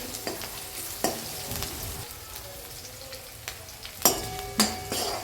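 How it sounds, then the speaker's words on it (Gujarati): A potato and pea sandwich filling stirred in a pan over low heat, with a soft steady sizzle and several scraping knocks of the spoon against the pan, recorded close with no talking. "હવે આ રીતે આપણે સારી રીતે મિક્સ કરશું અને ધીમા તાપે થોડીવાર ચડવા દઈશું"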